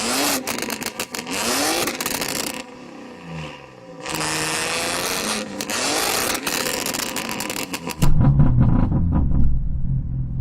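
A BMW M3 six-cylinder engine revs hard in loud, roaring bursts with brief dips between, then settles into a deep, rumbling idle near the end.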